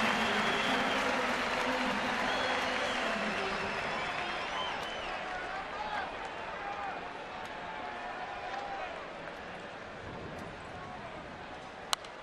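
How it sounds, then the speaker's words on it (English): Steady baseball crowd applause fills the clip, a broad wash of clapping that slowly eases off, with a commentator talking over it as batter Orlando Cabrera comes up. "receives a nice round of applause"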